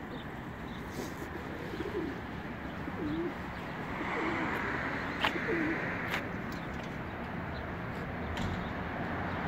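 Pigeons coo softly in a loft, low repeated calls over a constant noisy background, with no speech.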